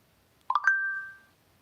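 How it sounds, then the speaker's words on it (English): A phone notification ding sounds during a watercolour Christmas ornament painting session: a short cluster of bright chimes ending in one sustained ringing tone that fades over about half a second, clear against near silence. "That was my phone."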